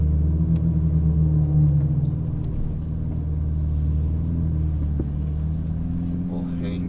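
A Ferrari 488 GTB idles and rolls slowly on a racetrack, giving a steady low engine rumble up close under a cabin drone, with a slight swell as it moves off.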